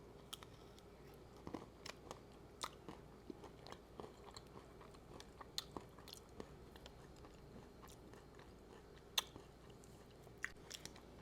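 Repeated sharp crunchy bites and soft wet chewing on a homemade vegan gluten-free mint ice cream sandwich with melting chocolate coating, close and fairly quiet, irregular mouth sounds with no talking.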